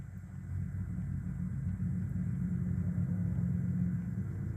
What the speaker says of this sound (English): A lot of classic cars drive by here on Sundays.